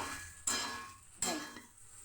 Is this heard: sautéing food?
yes